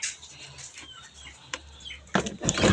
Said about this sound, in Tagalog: magpapakain tayo ng manok